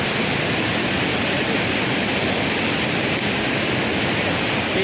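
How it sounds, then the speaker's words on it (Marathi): Forceful water rushes behind a temple set in forest at Tungareshwar, Vasai, a loud, dense, unbroken roar close by with no voices. "एक नंबर इथनं पाणी वाहतंय मित्रांनो मंदिराच्या मागच्या साईडनं"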